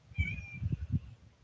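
A cat meows softly in a short rising call, faint and close, over low rumbling background noise and with no talking.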